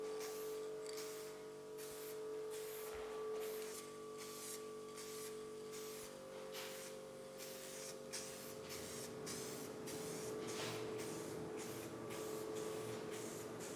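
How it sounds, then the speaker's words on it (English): A spray can dusts a very light coat of plastic primer in a series of short hissing bursts, fairly faint and close, with no talking. "we'll do a very extremely light coat of the plastic primer. It's a dusting"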